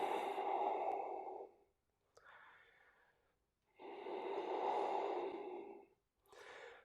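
A yoga practitioner breathes slowly and audibly in a stretch pose, with long soft inhales and exhales alternating in an even rhythm, close and quiet, with no talk.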